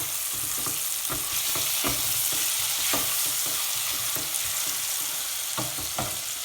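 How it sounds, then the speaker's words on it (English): Onions caramelizing in a pan for mutton curry sizzle steadily and loudly, with regular scraping stirs of a spoon against the pan throughout and no talking. "So our onions are caramelized and it's ready for us to put our mutton in."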